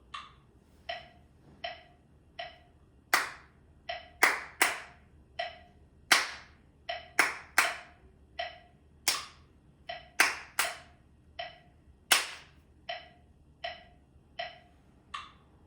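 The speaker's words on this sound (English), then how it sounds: "That clapping pattern goes to the words" Crisp hand claps in a repeating rhythmic pattern, a steady pulse of lighter claps with louder accented claps, close and alone without talk, played at a moderate tempo around 80 beats per minute.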